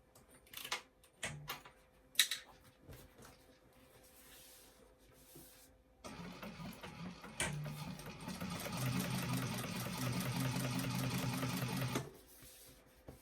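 A sewing machine top stitches an eighth-inch seam on a bag, starting with scattered clicks and handling noises, then running in a steady, rapid whirring stretch for about six seconds before stopping.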